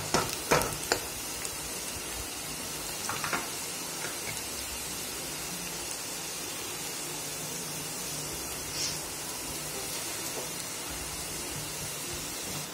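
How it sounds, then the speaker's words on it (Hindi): Onions fry quietly in a pan with a soft, even crackle of sizzling, broken by a few light clinks and scrapes of stirring near the start, faint and without talk. "जैसा कि आप देख सकते हैं प्याज भून रहा है और लगभग भून चुका है।"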